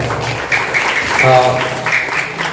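A crowd at a felicitation ceremony and vote of thanks at the Shri Dev Brahman temple in Mhartalewadi, Redi, claps for the performers, a steady patter mixed with voices talking over it.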